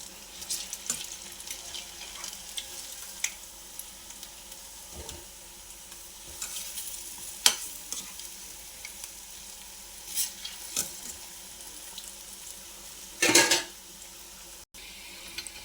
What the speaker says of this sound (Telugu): గోల్డెన్ కలర్ వచ్చినాక ఫ్రై చేసుకోవాలి కలుపుతూ